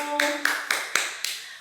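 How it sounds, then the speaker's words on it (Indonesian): A few scattered claps ring out in a classroom for a presenting student group, five sharp separate hand claps spaced roughly a quarter second apart, thin and fairly close rather than full applause. "Beri tepuk tangan untuk kelompok 1."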